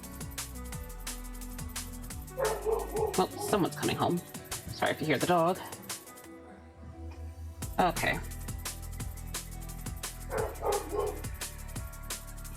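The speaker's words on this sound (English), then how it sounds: "Sorry if you hear the dog." A dog barks and yips indoors at home in several bursts, moderately close, mixed with a person talking and steady background sound.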